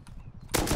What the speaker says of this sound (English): Oh, there's an auto turret right there.